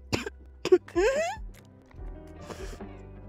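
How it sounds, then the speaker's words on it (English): A person coughs several times in sharp, close bursts with a throat-clearing sound, then speaks briefly in between. "I'm sorry, I keep coughing."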